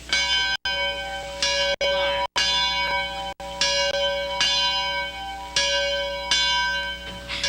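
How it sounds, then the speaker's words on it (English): A large bell rings repeatedly in a slow, regular rhythm, each clang ringing out with long metallic overtones, loud and fairly close, with no voices. "The clang of a bell can be heard for a great distance."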